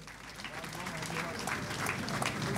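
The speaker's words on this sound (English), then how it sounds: "can we please give her a round of applause?" An audience at a panel discussion claps together in a steady burst of applause that swells slightly, with voices mixed in.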